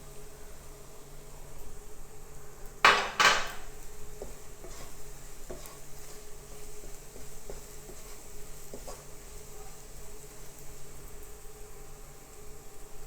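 Spice masala roasting in a pan for duck curry, a low continuous sizzle with a couple of sharp scraping stirs early on and light occasional clicks afterward.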